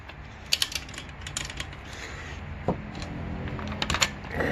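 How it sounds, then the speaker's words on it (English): Torque wrench ratcheting and clicking while tightening front strut bolts on a 2011 Toyota Sienna, a series of sharp, close mechanical clicks and ratchet sounds spread across the clip, with no talking. "I'm about to torque them down. Once it clicks, that's it."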